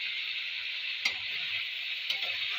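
A potato and onion-stalk fry sizzles steadily in a pan while a spatula scrapes through it twice, each stir a brief scraping clack over the constant hiss.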